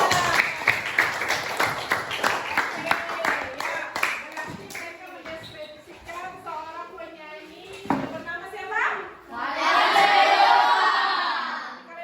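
Applause from a school group after a singing-group presentation, a run of sharp claps under chatter and talk, ending in a loud sustained burst of clapping.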